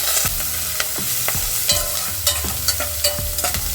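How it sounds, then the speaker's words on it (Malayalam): Sliced onion with curry leaves and green chili sizzles in hot oil while a spoon stirs it for mutton curry, giving repeated close scraping knocks over a constant loud frying hiss. "ഈ സവാള നമുക്ക് നല്ലൊരു ബ്രൗൺ കളറാകുന്ന വരെ വഴറ്റിയെടുക്കണം."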